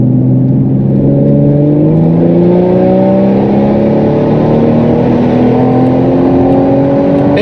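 A 380 hp Volvo V60 Polestar T6 engine pulls hard on the autobahn, its loud, close drone climbing steadily in pitch through a long acceleration with no one talking.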